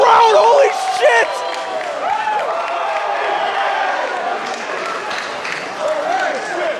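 Wrestling crowd at a UGW championship match roaring and cheering after a wrestler dives into the audience, a dense sustained swell of voices with whoops and shouts that stays loud throughout.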